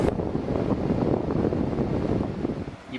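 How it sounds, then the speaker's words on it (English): Steady air rushing from the vent of a Mr. Cool mini split AC unit in a bus or RV, with the microphone held right at the vent, giving a continuous close windy roar with no talk. "I'm going to place the camera right up to the vent, so hopefully you can hear how quiet it is."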